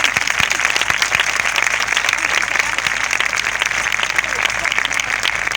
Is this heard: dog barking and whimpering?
no